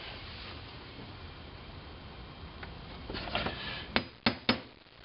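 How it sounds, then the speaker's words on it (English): Sharp metallic taps from a center punch marking screw hole locations on a wooden board for a homemade wooden camera tripod, three distinct strikes near the end after a quieter stretch of handling noise. "I'm going to center punch those locations"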